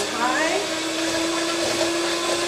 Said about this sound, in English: We start whipping our cream.